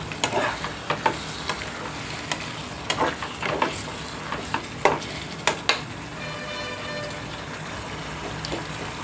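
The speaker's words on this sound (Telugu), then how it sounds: "ఇదిగోండి కొబ్బరికాయ పేస్ట్ వేస్తున్నాను" Coconut paste being stirred into potato kurma as it fries, with a steady sizzle under repeated scraping and clinking stir strokes from a spoon against the pan, close and moderately loud throughout.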